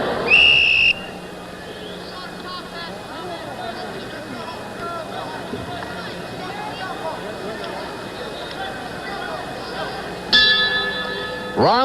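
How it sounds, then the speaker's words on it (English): Boxing ring bell signalling the warning before a round in the Muhammad Ali versus Jerry Quarry rematch, clanging loudly at the start and again near the end over a steady crowd murmur. "Quarry stayed on his stool until the warning bell went"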